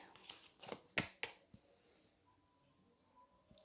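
Tarot cards being shuffled and moved by hand, giving several quick papery riffs and slaps close by, then a quieter stretch and a faint final rustle; no talking.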